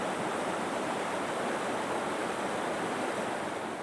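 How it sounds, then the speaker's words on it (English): A small feeder creek flowing toward San Juan Creek in a canyon along the Chiquito Falls Trail gives a steady, close, broadband rush of running water with no voices. "this is a feeder creek that feeds into the San Juan Creek"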